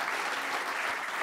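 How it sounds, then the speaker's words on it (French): Audience applause for prize winners at an awards ceremony, a steady dense patter of many hands clapping together throughout the short moment, with no voices standing out. "je crois qu'on peut très largement vous applaudir"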